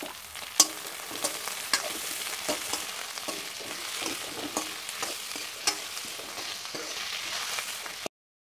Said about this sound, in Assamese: এয়া আমাৰ পিঁয়াজখিনি ভজা হৈ গৈছে এতিয়া মই ইয়াত কাটি থোৱা গাজখিনি ইয়াত দি দিছোঁ